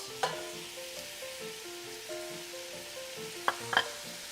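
Vegetables sizzling in a pan for braised short ribs, a soft, steady crackling fry close by, with a few light clatters of stirring and no talk.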